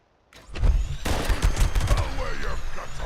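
In Fallout 76, the Pepper Shaker gun fires a quick, rapid-fire stream of loud, close shots that continues steadily after a brief quiet start.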